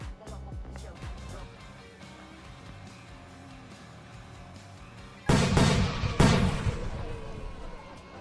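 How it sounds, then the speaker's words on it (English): Fireworks in the video game Roblox: two loud, sharp bursts near the end, following quieter crackling, with children's chatter through the clip. "Look at the fireworks again."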